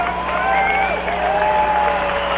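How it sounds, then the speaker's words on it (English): A boxing crowd at a 2005 NABO light heavyweight title fight applauds both fighters, a loud, sustained wash of clapping and crowd noise filling the arena, with faint whistles riding above it. "Crowd's giving both fighters a hand."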